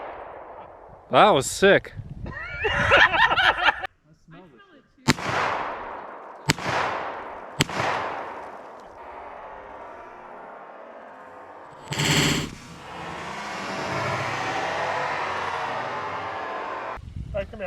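Shots from a 9mm pistol firing plastic practice rounds outdoors, several sharp loud cracks spaced a second or more apart, each with a fading echo, amid people talking and a lingering hiss.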